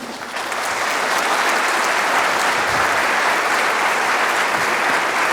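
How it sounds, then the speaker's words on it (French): Sustained audience applause at a 2019 French legal colloquium, swelling within the first half second and then holding steady and dense as a full room claps for an introduced speaker. "Je vous demande d'applaudir Thibaut Mercier."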